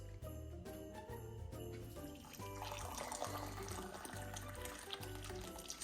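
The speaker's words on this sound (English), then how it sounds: "I'm gonna add 2 cups of water" Water runs steadily into a pan holding one cup of rice, a continuous splashing pour over a low rumbling background, fairly faint overall.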